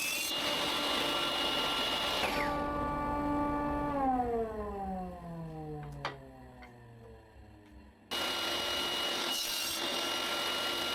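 A power saw cuts scrap wood into small pieces; its loud whirring motor winds down with a falling pitch and faint clicks, then roars back up abruptly.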